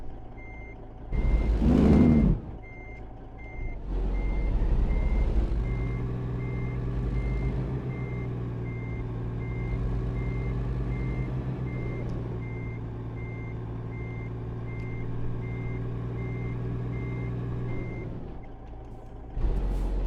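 A truck reverses a trailer in American Truck Simulator with a steady string of reversing beeps over a loud, droning diesel engine. A short air brake hiss or engine rev comes near the start, and no one talks.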